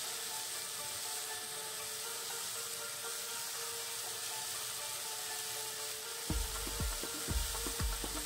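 Chicken pieces for butter chicken frying in a partly covered pan, a steady soft sizzle throughout with a few louder low scrapes and stirring knocks near the end; no talking.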